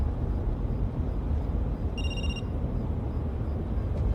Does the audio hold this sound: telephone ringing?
yes